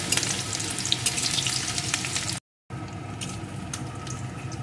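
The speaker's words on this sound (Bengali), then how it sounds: "এখন এর ভিতরে দিয়ে দেবো একটা শুকনো লঙ্কা দিয়ে দেবো একটা পেঁয়াজ কুচি এখন এগুলোকে একটু ভেজে নেব" A dried red chilli and chopped onion frying in hot oil, a loud, continuous close-up sizzle with a few faint stirring ticks, cut by a brief moment of total silence before the hiss resumes; no voices.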